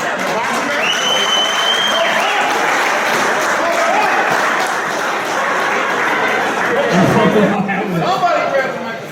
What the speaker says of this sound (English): can we have a round of applause for Chief Conforti of 30 years in the Jersey City Fire Department?